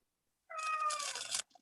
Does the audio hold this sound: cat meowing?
yes